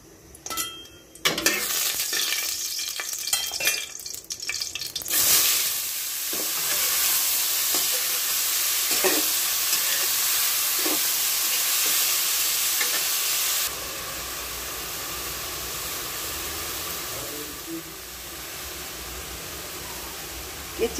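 Bitter gourd and onion rings sizzle steadily in hot oil, with scraping stirs and clinks from a utensil early on, then a continuous loud hiss of frying that eases slightly later.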